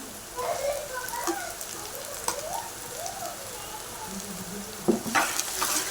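Ground masala paste sautéed in a pan with softened onion and tomato for a spicy goat head curry, a steady close sizzle under a person's talking, with a sharp burst of spitting and stirring near the end.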